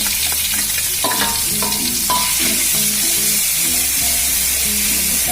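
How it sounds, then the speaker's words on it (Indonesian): Spice paste sautés in hot cooking oil in a wok, giving a loud, continuous frying sizzle with repeated scraping, clinking stir strokes, close up and without speech. "lalu kita tumis bumbunya."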